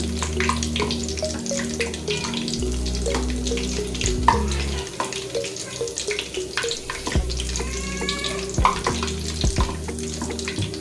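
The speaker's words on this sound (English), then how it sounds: "it's very, very simple to fry" Akara bean fritters fry in hot oil with a steady, close sizzle, joined by a low hum and occasional clinks and scraping from the pan, with no speech.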